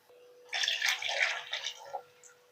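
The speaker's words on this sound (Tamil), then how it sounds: "இந்த மசாலையை அரைச்சா கழுவின தண்ணியை ஊற்றணும்." Rinse water from a masala grinder jar poured into a simmering Chettinad fish curry, a steady splashing pour of about a second and a half that trails off into a few faint drips, with no talking.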